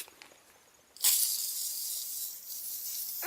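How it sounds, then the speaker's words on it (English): Aerosol can of PB Blaster penetrating oil sprayed onto a tractor shaft: a sudden steady hiss starts about a second in and continues unbroken to the end, close and fairly loud, with no talking. "I'll spray the shaft down with a little bit of PB Blaster."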